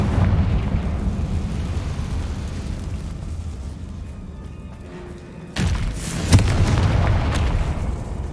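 Confringo blasting spell explosion in Hogwarts Legacy, low rumbling ambience then a sudden loud blast followed by a second sharp crack and lingering debris rumble, close, with no talk.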